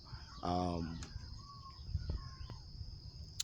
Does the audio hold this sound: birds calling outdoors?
yes